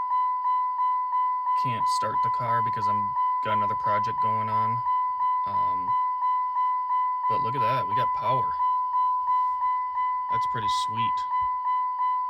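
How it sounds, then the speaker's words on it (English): Rapid, evenly spaced electronic beeping sounds without a break inside a 2007 Jeep Wrangler during a radio install, loud and constant beneath someone talking. "sorry about the beeping."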